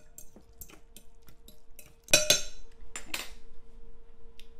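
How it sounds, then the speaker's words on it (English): A fork clinks and scrapes against a bowl while bruschetta tomato ingredients are stirred together, with light scattered taps building to a louder burst of rapid clinks near the middle, close and clear with no talking. "Now I'm just going to be mixing this up with a fork just to get all those flavors starting to mix in well together."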